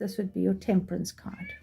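A pet cat meows repeatedly in short, close calls mixed in with a person speaking indoors.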